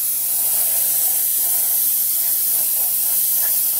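Grex Tritium TG3 airbrush with a 0.3 mm nozzle and needle spraying paint at a light trigger pull, giving a steady, close, continuous airy hiss with no pauses.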